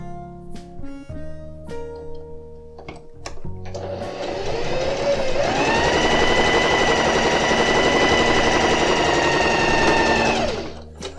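A sewing machine stitches percale fabric, starting with a few short bursts and then running in a steady, loud, close whir for several seconds before stopping.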